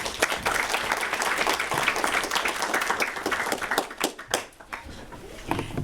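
An audience breaks into steady, loud applause to welcome Shannon Vallor at an ethics, law and society forum, dense clapping that carries through and tapers slightly near the end.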